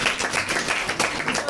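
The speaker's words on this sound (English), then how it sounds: "Clap for this one." Students clapping together in a school classroom during a science lesson, a short burst of brisk, uneven applause from a small group, close and lively.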